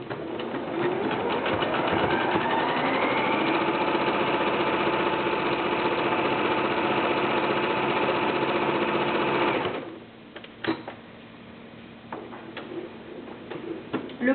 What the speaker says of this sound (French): je recommence ma ligne avec cette fois-ci mon point zigzag